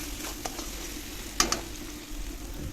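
Coriander paste masala stirred slowly in a pan over low heat, a steady soft sizzle with a few light scraping clicks of the spoon, close and fairly quiet, no voices.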